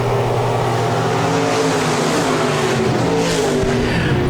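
Stock cars roar around Park Jefferson Speedway in a heat race, packed three wide down the front stretch, their engines a loud, continuous snarling drone with layered tones from several cars at once, and no talk over it.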